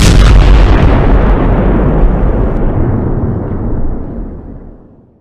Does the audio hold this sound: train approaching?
no